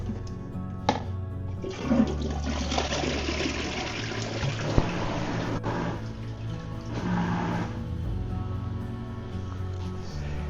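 A newly installed toilet in a barndominium build flushes close by, a steady rushing swirl of water that carries on for about ten seconds into gurgling refill, with no voices.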